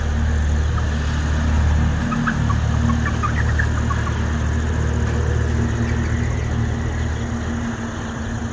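Ten-day-old Kaveri desi chicks on a poultry farm chirp and cheep continuously as a dense, loud chorus over a steady mechanical hum inside the shed.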